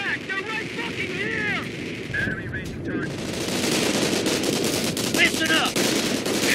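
Gunfire from the World War II strategy game Company of Heroes rattles in dense machine-gun bursts and heavy shots, with battle noise and radio-style soldier voices mixed underneath at a loud, steady level.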